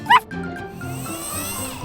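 A single short, high yip from a puppy near the start, followed by quieter background sounds and faint tones.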